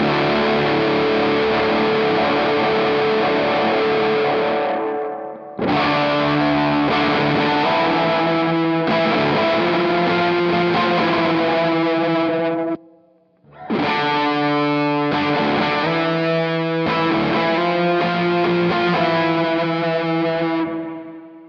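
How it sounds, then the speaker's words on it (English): A guitar played through a Walrus Audio Melee pedal, with reverb feeding into distortion, rings out in loud, edgy chords over two long phrases separated by brief gaps of silence. "That reverb into the distortion is definitely a lot edgier. It's a little more unruly."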